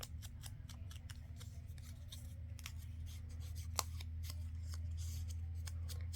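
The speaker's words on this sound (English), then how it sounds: "I just used the craft scissors and just kind of cut the ends off" Repeated crisp snips of craft scissors cutting the ends off paper tags over a low, steady hum.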